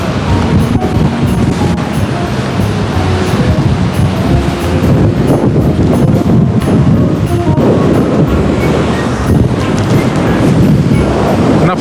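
Strong wind roars across the microphone on a stormy Anapa beach as sea waves crash nearby, a loud, continuous rumble and wash that never lets up.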